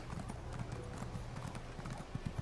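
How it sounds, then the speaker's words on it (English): Horse hooves clip-clopping at a steady walking rhythm in Elder Scrolls Online, soft and fairly distant against a low ambient background. "Should probably hop on my horse."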